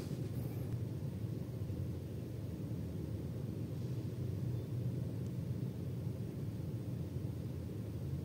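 Proton Saga 1.5L I-GT engine idling, heard from inside the cabin: a steady, subdued low hum that holds unchanged throughout with no other sounds.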